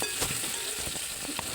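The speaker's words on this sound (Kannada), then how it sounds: "ಆಮೇಲೆ ಇಲ್ಲಿ ಕಟ್ ಮಾಡಿಟ್ಟಿರುವ ಟೊಮೆಟೊನ ಅದ್ರ ಜೊತೆ ಹಾಕೋರಿ ಫ್ರೆಂಡ್ಸ. ಸ್ವಲ್ಪ ಬಲೋ ತನ ಇದನ್ನು ಫ್ರೈ ಮಾಡ್ಕೋರಿ." Chopped tomato fries in hot oil with mustard seeds in a pan, giving a steady dense sizzle with faint stirring scrapes, close and continuous with no talk.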